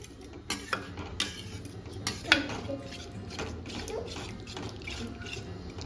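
Spoon clinks and scrapes against a bowl while green Manchurian batter with lemon juice is mixed by hand, a few sharp taps over a soft, steady background of stirring.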